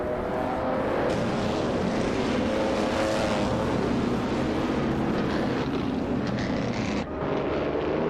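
Vintage Maserati race cars, including a 1958 model, racing at Silverstone in a video game, a continuous loud, rushing engine drone with shifting pitch as the pack runs through corners and straights.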